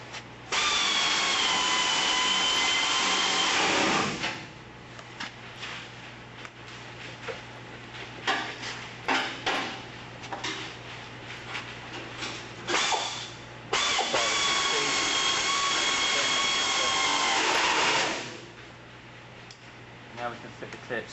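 A power tool drives double-sided clips while fitting them onto a pump, with two long sustained loud bursts of whirring separated by a stretch of clicks and handling noises, a low steady hum underneath and some talk.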